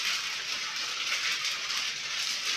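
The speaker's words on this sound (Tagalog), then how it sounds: "Lumalakas na naman yung ulan." Heavy rain falls steadily outside a rural home near a creek, a continuous even hiss of close downpour with no talk.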